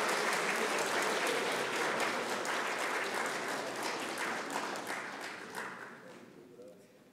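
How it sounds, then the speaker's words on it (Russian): Stormy applause fills an award ceremony hall honoring heraldic council members and experts, a dense wash of clapping that holds steady and then gradually fades away. "Бурные аплодисменты"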